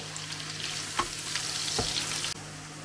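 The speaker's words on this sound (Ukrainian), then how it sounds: "Спочатку, як завжди, обсмажимо цибулю до золотистого кольору." Steady sizzling of onions frying in lard, with a couple of soft scraping stirs partway through.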